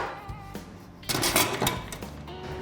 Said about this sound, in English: we're going to pop our cookware into these two tubs I've got here